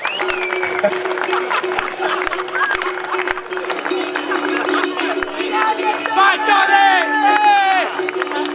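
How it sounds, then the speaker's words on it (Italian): Audience at a skyrace awards ceremony in Villacidro breaking into sustained applause and cheering, dense clapping under a steady hum, with voices calling out over it. "Un applauso a tutto il team di Eia TV e di Sardegna 2024"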